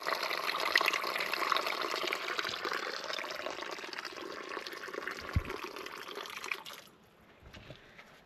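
Well water pours steadily into a container at a roadside stop in the desert, a continuous liquid rush that stops near the end, leaving quiet with faint sounds.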